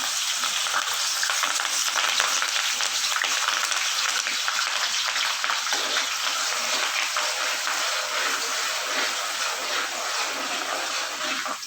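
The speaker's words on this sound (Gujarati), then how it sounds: "આ તેલ આવી ગયું છે એમાં પહેલાં મરચાં એડ કરશું" Long hot green chilies hit heated oil and fry with a loud, dense, steady sizzle that holds without a break; no one speaks.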